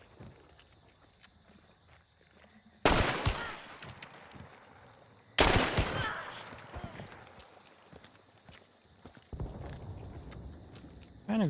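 Two loud gunshots ring out a few seconds apart during a video game firefight aimed at an enemy's head, each with a sharp crack and decaying tail, followed by scattered footsteps and a later burst of noise.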